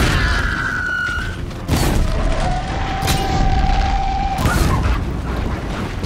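Booming explosions from the video game Horizon Zero Dawn, with a heavy blast near the start and another around the middle, set over a dense, continuous rumble of game action and a sustained tonal hum.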